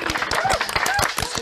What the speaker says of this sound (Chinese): 掌声掌起